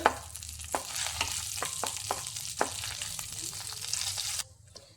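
Chopped almonds and cashews fry in oil in a pan, a steady close sizzle with repeated scraping stirs of a spoon, cutting off abruptly near the end.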